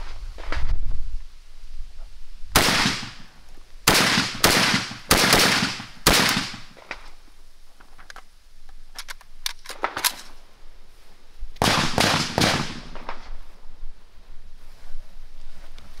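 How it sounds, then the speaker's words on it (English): Rapid gunfire aimed at fake foam body armor outdoors: loud sharp shots in quick bursts of three or four, separated by quiet pauses, with a final tight cluster near the end. "I'm just gonna rapid fire at it"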